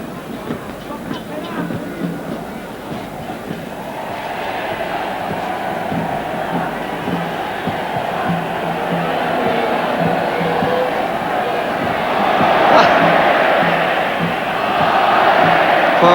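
A Mexican stadium crowd at a 1986 World Cup match between Argentina and South Korea sends up a broad, sustained roar that swells into olé chants, with a commentator talking over it.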